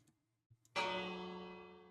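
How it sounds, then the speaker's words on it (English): A bell struck once in the Minecraft video game, a bright metallic ring that rises suddenly and decays slowly with a long sustained tone, preceded by faint soft clicks. "Ring the bell."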